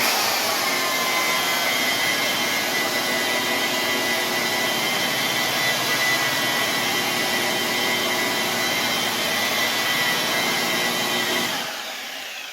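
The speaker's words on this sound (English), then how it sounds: "the polisher is coming down the edge and then going off of the edge that way" A car polisher works clear coat with a steady, loud, continuous whir that holds even for about eleven seconds before tapering off at the end, with no talking.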